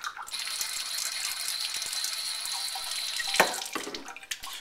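A steady stream of water flows through a Vinturi venturi wine aerator, hissing and whistling as air is drawn in, close up, with a splashy sputter near the end.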